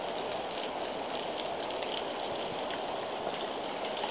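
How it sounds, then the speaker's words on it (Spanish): Small forest waterfall splashing steadily, a continuous broadband rush of falling water, close and even throughout with no talk. "Aquí hay una mini cayente de agua."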